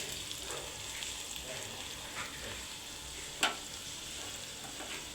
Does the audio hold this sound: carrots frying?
yes